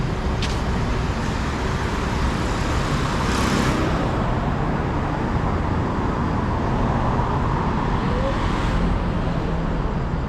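Steady street traffic on Souphanouvong Road in Vientiane near a bus station in the late afternoon, a continuous broadband roar of cars and buses with passing vehicles swelling around three and eight seconds, no talk.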